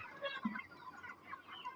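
Hens clucking on a poultry farm, a soft chorus of short, overlapping clucks and calls from a flock at some distance, with no talk.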